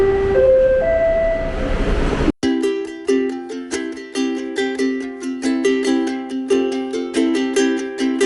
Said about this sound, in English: We'll just go ahead and take the tram now.